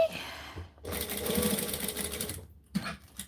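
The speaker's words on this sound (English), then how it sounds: "this is how I sew when I'm not recording" Sewing machine stitching binding around the edges of a utility-style piece, running in a steady whirring burst of about two seconds after a brief start, then stopping, with quiet pauses and no talk.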